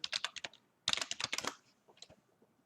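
A username and password typed on a computer keyboard: a quick flurry of light, close key clicks, a short pause, a denser burst, then a few scattered taps.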